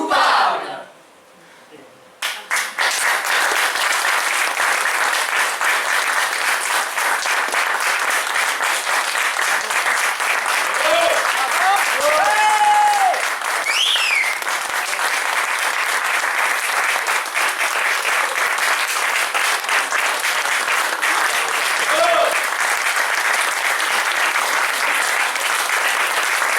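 A theatre audience bursts into sustained applause for the actors, a dense, loud clapping that carries on for over twenty seconds with a few scattered cheers and voices.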